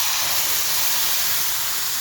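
Onion paste hits a hot pan of oil and whole spices for a Bengali chital fish curry, giving a loud, dense, steady sizzle with no pauses and no voices.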